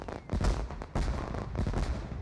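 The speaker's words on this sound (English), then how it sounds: "Oh, well, we get fireworks?" Fireworks in the city-building game Cliff Empire pop and crackle in a quick, irregular burst of several bangs, fairly faint and with no talking.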